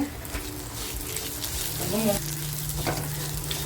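Cashews and garlic fry in a pan, a steady loud sizzle with stirring scrapes and a brief bubbling burst midway, no speech.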